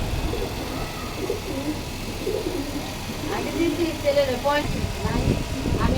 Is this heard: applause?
no